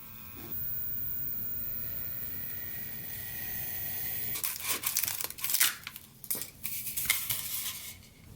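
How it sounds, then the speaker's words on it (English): A hot wire foam cutting knife works through foam, starting with a faint steady hum and then giving way to crackling, tearing and crinkling bursts as the foam is cut and pulled apart near the end. "I'm gonna take my new hot wire foam factory foam cutting tool, the knife, the industrial knife, and we're going to cut that perfect shape"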